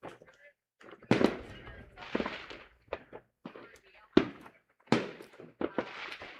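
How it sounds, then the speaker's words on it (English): Fireworks explode on July 4th at a baseball game between the Pioneers and the Outlaws: loud separate bangs in an irregular run, some with crackling tails, with quiet gaps between them. "I think we might be hearing fireworks in our ears for the next couple days"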